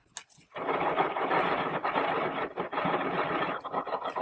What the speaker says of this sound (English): If you need to scrape the powder down from the sides of the mortar, use your plastic spatula to move the powder back to the center of the mortar.